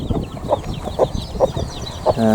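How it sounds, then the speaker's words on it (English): Three broody foster-mother hens in a suburban backyard flock give a steady series of close, moderately loud clucks. A longer tonal call comes at the end. "So these 3 hens here are the foster mothers."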